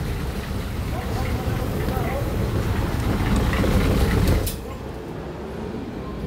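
Toyota Fortuner engine idling after starting, with an overheating fault in traffic with the air conditioning on; a steady low rumble that drops in level partway through, with people talking nearby.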